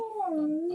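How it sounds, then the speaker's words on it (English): A dog lets out one close, drawn-out whine that slides downward in pitch and lasts under a second, heard clearly on its own. "sorry, that's my dog."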